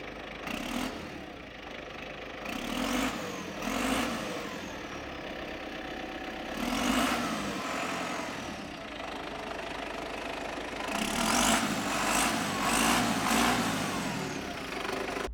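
Engine of a Belarus 892.2 tractor, a machine of about 3.7 tonnes, heard from inside the cab. A low steady drone rises and falls in several repeated revs over the idle, with no talking.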